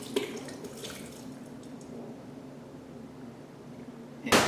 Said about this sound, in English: Here we're going to add our 153 proof alcohol and 1 liter, which is roughly 4 cups